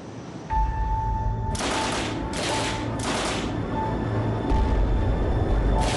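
A Sten submachine gun fires in three sustained bursts of rapid automatic shots, loud and close, separated by brief pauses over a steady low rumble, with a fainter burst near the end and no speech.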